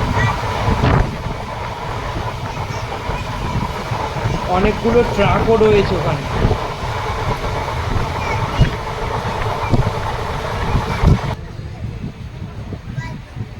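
The Tatanagar–Asansol Express runs past a factory with a constant low rumble and gusting wind noise, while someone talks over it throughout.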